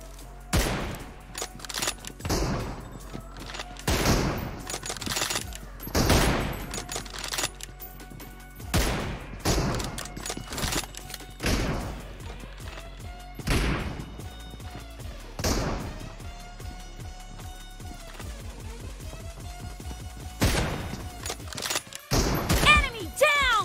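Repeated loud M24 sniper rifle shots in a mobile shooter game, sharp booming cracks spaced a second or two apart with other gunfire and thuds in between, continuing throughout.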